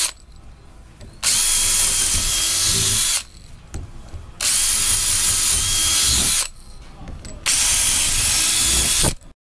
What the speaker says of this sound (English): Next, drill your 4 holes with your 11/64 drill bit.